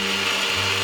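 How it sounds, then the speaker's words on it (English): A deep bore hole saw on a drill press cuts through a wooden leg dowel, giving a loud, steady whirring grind whose low tone drops partway through as the cut loads the motor, with no voices. "For this I need to use a deep bore hole saw, which can cut through the entire depth of the leg dowel"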